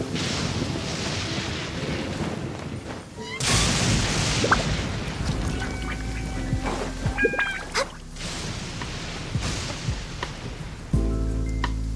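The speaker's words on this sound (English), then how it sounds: "I love listening to the rain from the" Steady rain falls in the video game Genshin Impact, a dense hiss that runs the whole time and swells louder partway through, with scattered soft tonal chimes and clicks layered over it.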